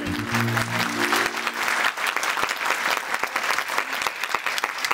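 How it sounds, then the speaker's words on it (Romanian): Steady audience applause at a Romanian performance. Dense, continuous clapping rises over a fading musical tone at the start, then carries on alone with scattered sharper claps. "Ei merită aplauze"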